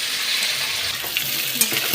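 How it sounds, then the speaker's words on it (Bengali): Potato and green banana pieces with green chilies sizzle in hot oil in a pan as the base of a fish curry, a steady close frying hiss broken by a few stirring scrapes. "দেখো বন্ধুরা, আলুটা আমার ভাজা হচ্ছে।"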